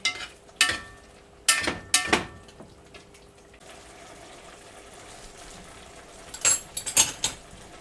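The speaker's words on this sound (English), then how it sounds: "And stir that up good." Squash cooked down low being stirred in a pot, giving a few sharp clinks and scrapes of utensil against the pan in separate bursts, with a quiet stretch in between and a cluster of clatter near the end.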